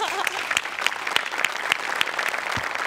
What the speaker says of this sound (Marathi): म्हणून स्वतःसाठी एकदा जोरात टाळ्या वाजवा